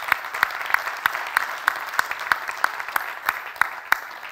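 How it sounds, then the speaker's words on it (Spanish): A crowd at a political rally in Valladolid applauds in a dense, continuous wash of clapping, punctuated by sharper, regularly spaced claps standing out from the mass. "Un aplauso, sí, un aplauso para, para vosotros y vosotras"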